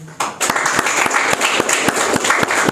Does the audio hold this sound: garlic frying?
no